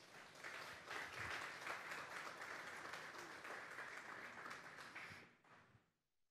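Members of a Spanish-speaking church congregation at a Sunday service give a sustained round of applause, a steady wash of clapping that holds for about five seconds, then fades out quickly.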